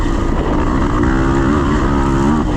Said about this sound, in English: If you listen closely, you can hear some rattling coming from my bike.